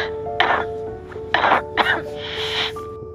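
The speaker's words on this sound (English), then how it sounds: "Why are you coughing?" Someone in a short film set during the COVID-19 lockdown coughs and clears their throat in several sharp, close bursts with short pauses between them, over a faint steady hum.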